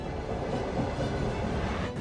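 A train rolls steadily along the rails with a continuous rumble and faint rhythmic clatter, heard from a moderate distance without talk, as it travels through the undersea Channel Tunnel.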